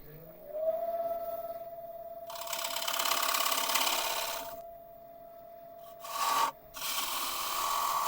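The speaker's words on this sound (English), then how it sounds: "sanding." Thuya burl wood is sanded while it spins, producing a steady motor hum under rasping scrubbing bursts that rise, fade and return in close, loud passes.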